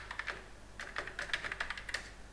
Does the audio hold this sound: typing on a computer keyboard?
yes